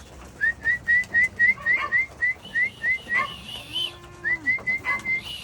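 Repeated short whistles call racing pigeons back to a backyard loft, a steady rhythmic series of about sixteen bright notes close to the microphone, with a brief pause in the middle and faint background noise.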